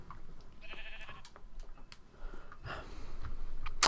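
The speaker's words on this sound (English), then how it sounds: "Oh, it's a sheep." A Minecraft sheep bleats in short game-sound calls against faint background noise, with a sharp click or hit near the end.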